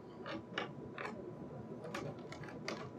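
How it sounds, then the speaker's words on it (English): A Phillips head screwdriver unscrewing the M.2 heatsink inside a desktop PC, giving faint, close ratcheting clicks and light metallic ticks at an irregular rhythm over quiet background noise. "I'm unscrewing with a Phillips head screwdriver the top of this and the back."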